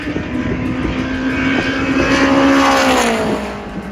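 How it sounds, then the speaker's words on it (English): Turbocharged K24 Honda Prelude race car with a sequential transmission, driven fast on a track: a loud, sustained engine roar that holds a high note, rises slightly, then drops away as the car lets off, with no talking. "we're back at the track here with the Circuit Monsters Prelude, and it's going fast"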